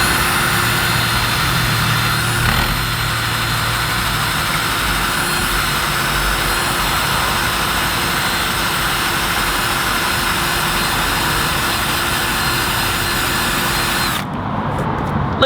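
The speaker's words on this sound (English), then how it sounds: "Go to the store and get yourself an eraser wheel and put on your drill." A power drill fitted with an eraser wheel strips adhesive tape from a Honda S2000 front end, a loud continuous high whine and grinding that runs steadily for about fourteen seconds before stopping abruptly.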